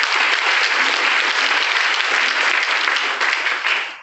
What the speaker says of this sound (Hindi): एक बार इस 100 ग्राम की शानदार ताली हो जाए